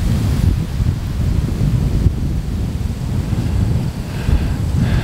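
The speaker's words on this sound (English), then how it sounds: "it's very windy" Strong wind buffets the microphone around a hunting tree stand, a loud continuous rumbling roar with gusty surges and faint rustling of leaves, no voices.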